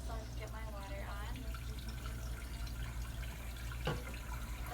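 A tap running into a sink in a veterinary scrub area before a surgical hand scrub, a steady close water flow throughout with brief voice-like sounds near the start.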